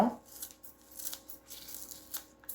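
Quiet, crisp snips of small herb scissors cutting garden herbs repeat irregularly, several short cuts spaced apart, close by with faint rustling between them.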